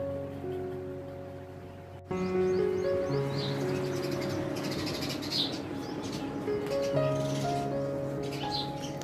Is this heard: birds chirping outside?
yes